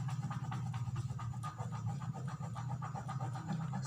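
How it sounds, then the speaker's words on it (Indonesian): A pen rubbed back and forth across a sheet of paper gives a quick, rhythmic scratching of repeated strokes, close and steady, with no one speaking. "pulpen kita gosokkan di atas sebuah kertas"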